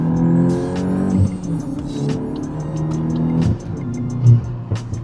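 A VW Golf GTI MK8 with a Unitronic stage 1 tune accelerates hard, with a rising engine note, gear changes and turbo whooshes heard from inside the cabin.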